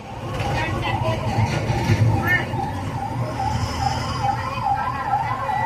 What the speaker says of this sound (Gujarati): અહીંયા પણ એમ્બ્યુલન્સ આવી ગઈ